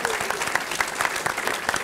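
Audience applause for a woman named Jean, dense and steady clapping, close and loud for the whole stretch.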